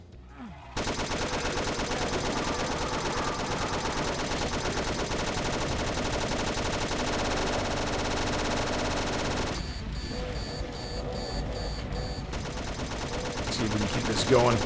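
Rapid gunfire from a pump shotgun in a Doom mod video game, a loud dense stretch of repeated blasts followed by a sharper run of separate shots near the end, with no talk.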